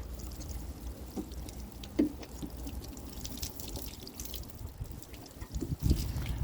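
Water drips and trickles steadily onto soil and leaves, with a few louder splashes, as a tomato plant is watered by hand.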